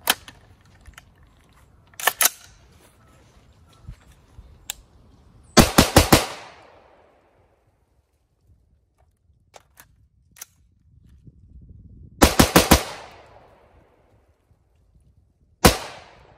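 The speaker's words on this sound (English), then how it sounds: "I'm going to run three more mags through" An AR-15 rifle with a 14.5-inch Aero Precision upper and H2 buffer fires .223 rounds in loud, sharp clusters of three or four quick shots with pauses between, plus scattered clicks and handling noises.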